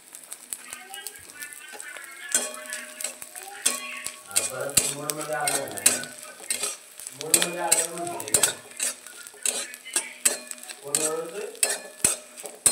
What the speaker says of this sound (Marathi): कमी गॅसवर आपला डिंक भाजून घ्यायचं आहे आपल्याला